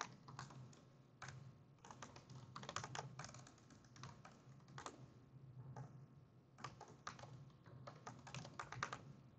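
Rapid clicking of keys on a computer keyboard, in irregular bursts with short pauses, close and fairly quiet, no voices.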